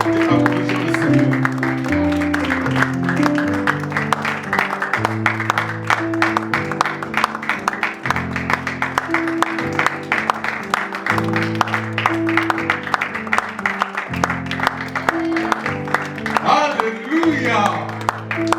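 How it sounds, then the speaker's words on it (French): Church congregation at a baptism gathering clapping for the Lord, steady applause running through a loud musical backdrop of sustained chords and singing, with voices over it throughout. "Est-ce qu'on peut applaudir le Seigneur?"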